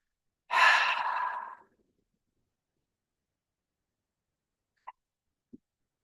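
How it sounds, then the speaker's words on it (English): A strong qigong breath, one forceful exhale of about a second, followed after a pause by two tiny soft breath clicks in an otherwise quiet room. "Do a couple of breaths, strong and"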